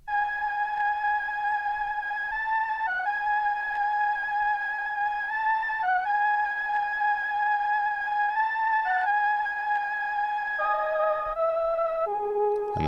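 A simple, dark sampled melodic pattern on a cassette-style preset with vinyl crackle plays alone, steady sustained tones stepping between a few notes and dropping lower near the end, with no voices.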